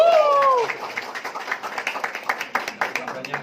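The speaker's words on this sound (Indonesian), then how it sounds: "Tepuk tangan dong." Applause at a community meetup, a thin patter of clapping from a modest group that rises after a voice speaking at the start, with rhythmic, uneven claps continuing close by.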